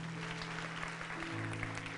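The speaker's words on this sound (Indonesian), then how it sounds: "Beri tepuk tangan untuk Tuhan." Church congregation applauding after a prayer, a steady wash of clapping heard at a distance under sustained organ or keyboard chords.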